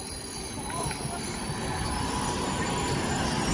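A train slowing to a halt at Wigan North Western station, a low rumbling roll with faint metallic squeal from the wheels, building slightly in loudness as it draws near and brakes.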